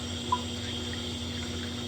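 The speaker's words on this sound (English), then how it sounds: "All this warm condensate." Warm steam condensate pours steadily into a drain in the steam plant of a historic Baltimore tower, a constant watery wash over a low mechanical hum, with one brief faint click.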